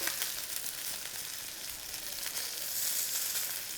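Sichuan chicken wings sizzle on a barbecue grill, a continuous crackling hiss with small pops that swells slightly toward the end.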